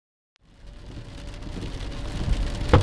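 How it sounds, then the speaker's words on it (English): Heavy rain pours down, fading in from silence into a dense, steady hiss that grows louder, with a low rumble beneath it. "Coming out of the rain. Jeez, it's really coming down."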